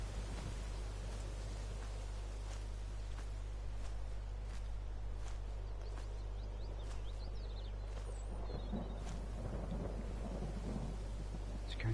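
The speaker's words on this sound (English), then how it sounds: "You can hear the thunder." Steady rain hissing in the background with low rolling thunder in the video game Skyrim, a continuous stormy wash with a few sharp crackles, fairly quiet overall.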